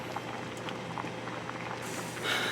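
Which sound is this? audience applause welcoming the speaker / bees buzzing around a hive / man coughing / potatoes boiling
potatoes boiling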